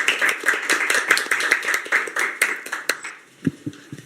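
Audience applause fills a Korean Reform Party policy forum, many hands clapping in a dense, even burst that thins out into a few scattered claps near the end.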